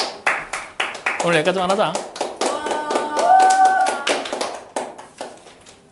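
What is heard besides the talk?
students clapping in class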